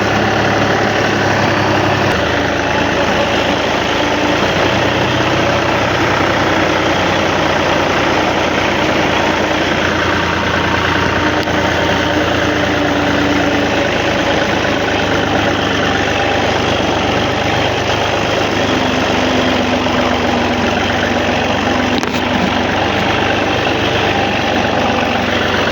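A tractor engine idles steadily and loudly for the whole stretch, a constant low rumble and vibration close by with no voices.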